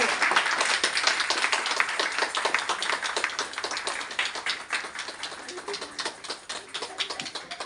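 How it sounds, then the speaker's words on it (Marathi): A group of people clap their hands at a family gathering, brisk uneven clapping that carries on throughout, thinning slightly toward the end, with faint voices underneath. "टाळ्या वाजवा सगळ्यांनी"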